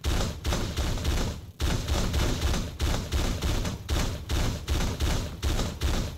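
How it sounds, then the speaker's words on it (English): Shotgun fire in the Teleglitch video game: loud, rapid repeated blasts in a steady rhythm, about a dozen shots close and punchy with only brief gaps, no voices. "Okay, time to use a shotgun now."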